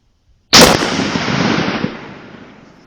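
A single 6.5 Creedmoor rifle shot is fired at a target 25 yards away outdoors: one sharp, loud crack followed by a long rolling echo that fades over two seconds.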